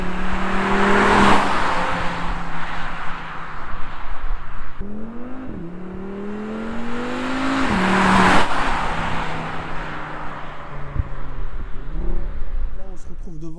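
A 2021 Audi RS Q3 driving off with engine revs rising and falling through gear changes, loud and close, with a whooshing pass and steady road noise.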